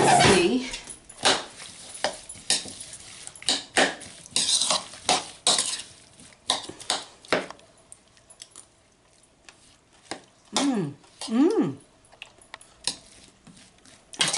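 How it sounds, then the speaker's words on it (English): Trifle mixture with sugar and sherry stirred in a dish, a spoon scraping and clinking against the sides in irregular bursts, with a few sharp knocks and brief voice-like sweeps in between. "Now, let me stir it up."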